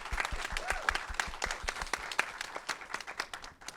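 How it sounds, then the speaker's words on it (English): An event audience applauds with steady, moderately distant clapping that gradually thins out toward the end. "So round of applause."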